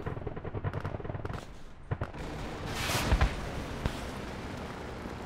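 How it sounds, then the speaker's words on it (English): Gunfire in the Project Reality military shooter game, rapid bursts of automatic fire giving way to scattered sharper single shots and a heavier rumbling blast, in a loud continuous battle without talk. "Oh, gunfire."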